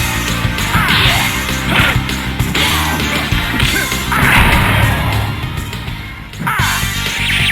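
Captain America's shield slap attack lands in a video game fight, a dense run of loud smashing, whacking impacts and swooshes packed together over nonstop game sound.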